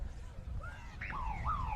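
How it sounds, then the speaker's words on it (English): Full-time siren at a women's university rugby sevens match, rising and falling wails heard faintly over crowd and ground noise, fairly distant. "As the siren sounds"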